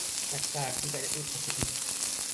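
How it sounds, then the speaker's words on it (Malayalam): Finely chopped onions dropped into hot oil with curry leaves for an egg roast, a soft continuous sizzle with a few brief clatters and faint background murmur. "ഉള്ളി, സവാള ഉള്ളി ചെറുതായിട്ട് അരിഞ്ഞത് അതിലേക്ക് ഇട്ട് കൊടുക്കുന്നു"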